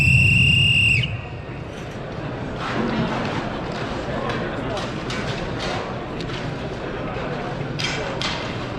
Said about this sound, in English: on the whistle blow, we're going to get going